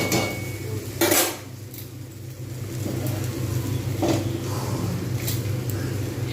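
Chowmein stirred with salt in a metal pan on a home stove: a couple of loud scraping, clanking strikes of a utensil against the pan over a steady low rumble of the burner, with no talking.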